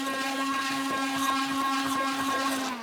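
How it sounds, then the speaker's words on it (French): A blender runs at low speed mixing a lamb's lettuce cream sauce, giving a steady, loud motor whine with a constant pitched hum that holds for the whole stretch, with no voices. "Donc à petite vitesse, je vais commencer à mixer ma préparation."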